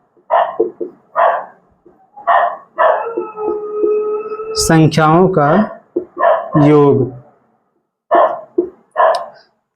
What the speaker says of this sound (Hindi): अगर आपको थोड़ा कुत्ते की आवाज अगर सुनाई देगी तो आप डिस्टर्ब मत होना